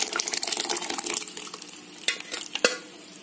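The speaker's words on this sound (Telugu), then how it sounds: "ఇప్పుడు ఇది మొత్తం బాగా కలుపుకొని ఒక 5 నిమిషాల పాటు లో ఫ్లేమ్ లో ఉడికించుకోవాలి" Cooked dal is stirred into radish sambar in a pot, giving a wet bubbling sizzle with a run of scraping spoon strokes and a couple of sharper knocks, close and moderately loud without speech.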